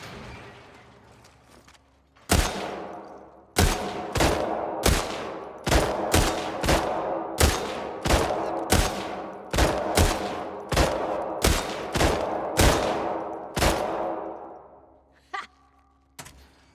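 Gunfire from a gun in The Last of Us Part II shooting-range contest: about a dozen loud, evenly spaced single shots with ringing decay, close and without talk.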